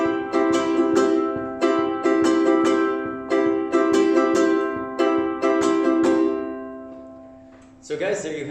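Fast ukulele strumming in a quick, tricky pattern, bright strums repeating in steady bursts for about seven seconds, then a brief different sound at the end.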